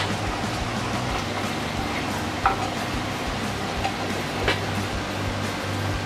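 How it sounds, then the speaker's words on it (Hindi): A spoon stirs honey chili potato sauce in a pan, a steady close sizzle and bubbling with a few soft scrapes and clinks. "अब इसे थोड़ा सा मिक्स कर लें।"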